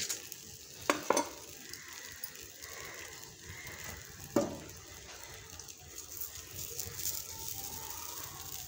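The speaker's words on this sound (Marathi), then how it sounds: "हे पहा, आपल्या कढईमध्ये आपण पोळी टाकून घेतलेली आहे।" Puran poli fries in oil in a kadhai with a quiet, steady sizzle. A few sharp metallic clinks and scrapes of a utensil stand out against the soft, continuous frying.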